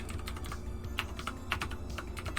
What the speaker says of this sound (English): Stupidly loud typing noise.